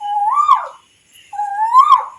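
A human voice mimics a koel (cuckoo) call: two drawn-out, rising whistled notes, each swelling and then dropping off, separated by a short gap. Both are loud and close with no other sound around them.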